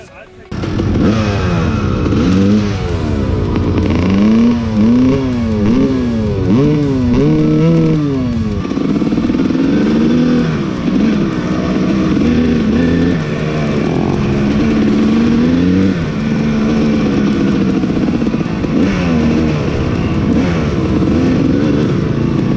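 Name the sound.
dirt bike engine revving after carburetor adjustment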